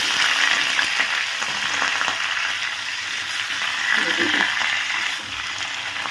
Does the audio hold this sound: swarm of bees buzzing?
no